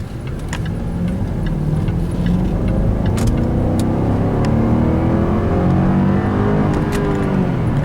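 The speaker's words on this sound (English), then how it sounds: "I'll go ahead and pop it into sport mode. And I'm not gonna go ridiculous speeds, but I will floor it to 60." A 2012 Jaguar XF accelerates at full throttle toward 60 in sport mode, its engine a loud, steady, rising drone heard from inside the car, with faint light rattles and no voices.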